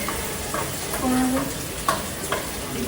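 Food is stirred in an uncovered cooking pot on a home stove. A steady sizzle and scraping mix runs throughout, with a few soft clinks from the spoon against the metal pot, close and fairly loud, with no talking.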